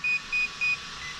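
A Traxxas Rustler 4x4 speed control beeps three times during calibration, even evenly spaced electronic tones, clear and close, over a faint steady hiss.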